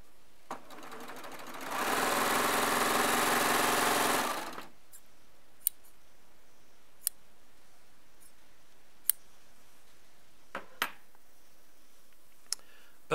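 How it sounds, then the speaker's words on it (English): A sewing machine stitching jelly roll fabric strips runs in one steady whirring burst of about two and a half seconds, then stops, followed by a few faint sharp ticks in a quiet room. "But on this one, I'm going to sew the longer white piece on first."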